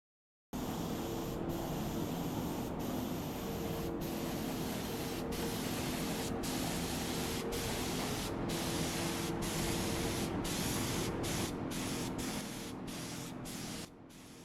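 Anti-corrosive paint hisses from a spray gun onto a rusted VW bus floor pan in one long, even, close spray, broken by brief pauses near the end.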